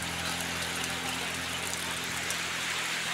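Rain falls steadily during a family road trip, a constant broadband hiss of drops on surfaces with a low engine-like hum beneath, even and unbroken.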